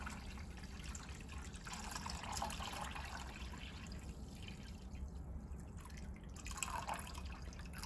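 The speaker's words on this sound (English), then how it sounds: "you're going to go ahead and pour that directly into that water reservoir" Water runs and trickles steadily into the water reservoir of an Avalon A9-2 unit, a continuous soft liquid pouring sound with faint dripping, fairly quiet and close.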